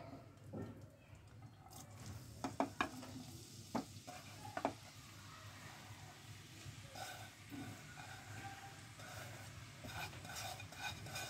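Grated carrot frying in melted ghee in a pan for carrot halwa, a steady low sizzle with occasional sharp clinks of a utensil stirring against the pan, steady and moderately quiet throughout.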